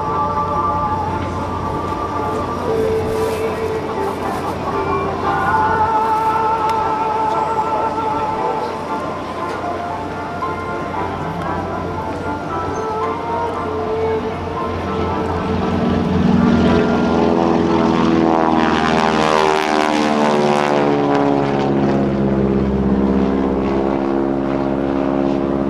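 A T-6 aircraft at the 2014 NAS Oceana airshow roars overhead with loud propeller noise. The engine swells into an intense, close pass near the end while an announcer talks over it.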